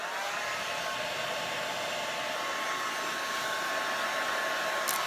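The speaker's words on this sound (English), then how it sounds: "in case it doesn't dry, I have my hair dryer" A handheld hair dryer blowing steadily up close to dry paint in an art class, a constant loud whirring rush with a faint high whine, running unbroken the whole time without speech.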